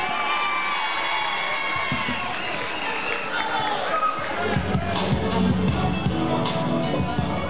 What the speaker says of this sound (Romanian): Haideți să-i încurajăm un pic, aplaudați și pe ei.